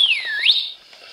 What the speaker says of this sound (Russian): свисточек наверх